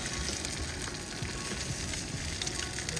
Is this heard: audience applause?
no